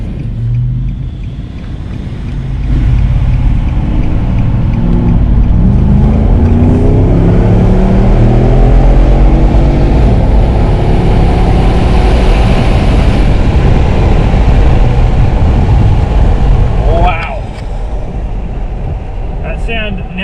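Nissan Patrol fitted with a new exhaust, heard from inside the cabin with the windows down, rising into a loud, sustained engine roar under hard acceleration for about fifteen seconds before easing off; a voice is faintly audible early on.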